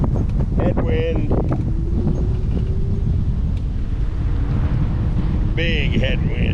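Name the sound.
strong headwind blowing on the microphone at an airport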